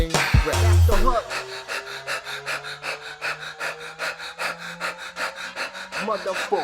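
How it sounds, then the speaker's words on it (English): Rapid, rhythmic panting breaths in a guided breathwork exercise, a quick steady series of short in-and-out puffs close to the microphone, preceded by a sharp gasp and a brief spoken cue. "The doggy panting breath."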